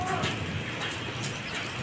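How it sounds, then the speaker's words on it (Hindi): Rain falls steadily on the Kosi River in cold weather, a dense even patter close by that fills the short stretch with no other sound standing out. "और बारिश की बूंदे देखो नदी में।"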